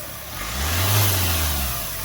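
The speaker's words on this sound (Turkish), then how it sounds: "Çalıştır arabayı bu. Bas. Şimdi bakın arkadaşlar. Gaz ver. Gaz ver." An Opel Mokka 1.6 diesel turbo engine with a cracked turbo pipe revs up close by, one strong rise and fall in engine roar lasting about a second and a half over a steady idle.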